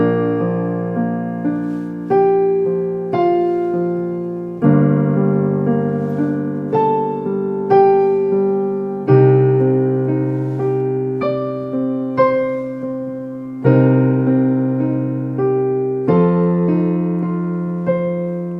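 A piano plays a passage of a song, sustained chords and single notes struck in a slow, steady sequence, clear and close with no voices.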